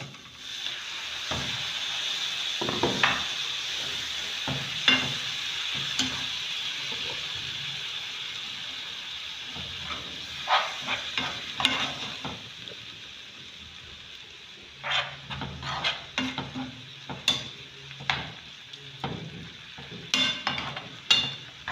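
Minced meat sizzles in a pan for meat pie filling under a steady hiss, with a utensil stirring and scraping in irregular bursts that grow more frequent toward the end.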